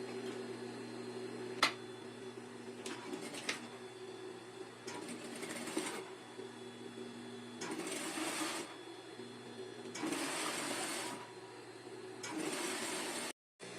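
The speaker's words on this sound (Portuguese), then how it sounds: "Vou fazer a barra, vou dobrar 2 vezes 1 centímetro e vou costurar." A sewing machine stitches a hem folded twice by one centimetre on fabric for a homemade kitchen set, running in several bursts of steady whirring with short pauses between, close by and fairly quiet.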